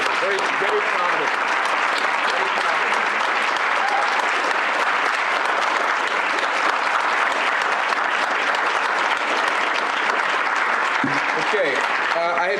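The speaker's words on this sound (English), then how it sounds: "let's give these students again, all four of them, a round of applause" An audience at a city board of education business meeting gives a long, even round of applause for four students, with dense clapping filling the room at a steady level from start to finish.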